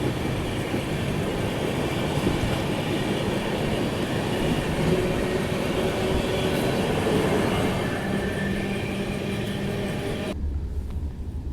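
The Bangalore Rajdhani Express, heard from a First AC coach, runs past another passenger train with a steady, loud rumble of wheels on rails and faint squealing tones. The noise cuts off abruptly near the end.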